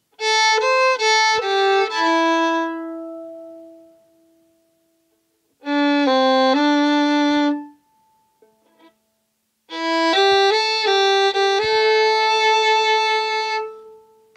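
Fiddle plays the closing tag of the A part of the old-time tune Yew Piney Mountain, three bowed phrases separated by short pauses, close and clear with no talking.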